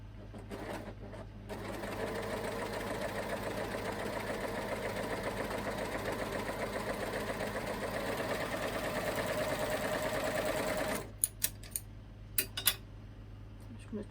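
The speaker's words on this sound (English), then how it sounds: "I'm going to go to the machine now and we'll start sewing them" A sewing machine stitches the shoulder seam of a homemade top in one steady, close run of about nine seconds, then stops, leaving a few short clicks and handling sounds.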